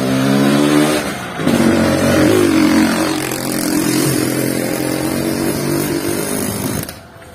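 A motorcycle engine drones steadily and fairly loud on a village road beside a forest, its pitch rising and falling as it revs and passes nearby, fading slightly at the end.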